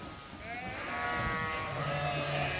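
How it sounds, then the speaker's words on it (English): Suffolk ewe lambs and sheep in a pen at a 4-H show, with about 150 animals present, bleat loudly and overlap in long wavering calls close by, over a busy barn murmur. "there's easily 150 sheep here"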